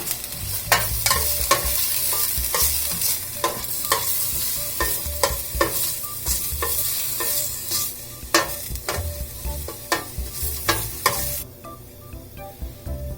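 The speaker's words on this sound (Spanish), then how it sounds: "Le ponemos una poca de cebolla para sofreírla." Onion sautéing in oil in a saucepan for tortas de pollo in salsa verde, a close sizzle under frequent sharp scraping and tapping of a spoon against the pan, ending in a sudden drop to near quiet.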